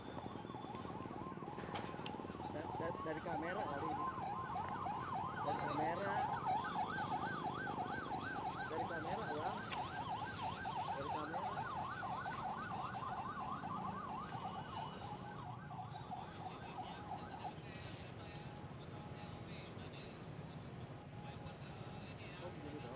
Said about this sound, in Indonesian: ambulans yang membawa Setia Novanto sedang dalam perjalanan menuju Rumah Sakit Cipto Mangunkusumo Jakarta